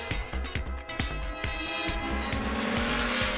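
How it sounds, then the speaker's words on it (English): Motorbikes race in a film scene, with rapid, choppy engine whines and passing bursts of revving that rise into a dense, bright roar toward the end, fairly close and loud. "There he goes, overtaking Lee, leaving him far behind"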